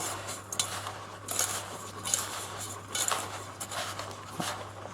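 Hard butter and sugar mixed for an apple crumble, a spoon scraping and clinking against a bowl in irregular close strokes over a steady low hum.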